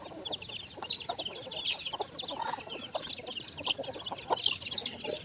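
Devavaram breed hens and roosters cluck on a poultry farm, a continuous soft chorus of overlapping clucks and murmurs at moderate distance, fairly quiet.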